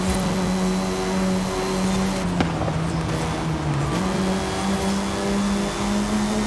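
Car engines drone steadily in a multiplayer racing video game, a GTR among the cars, with a sustained whine that shifts pitch as the cars accelerate, alongside faint tire noise and no talking.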